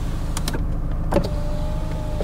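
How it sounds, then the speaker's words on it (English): The electric power window on a cheap VW Golf Mk6 hatchback runs noisily with a steady motor whine, following a few short clicks and knocks, heard close inside the car with no talking. "Do the windows work? That one does, but it's noisy."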